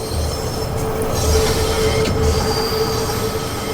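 A London Underground Bakerloo Line train in Train Sim World 2 rumbles steadily while its bogies squeal against the rail on a curve, a sustained high whine over low running noise, loud and close.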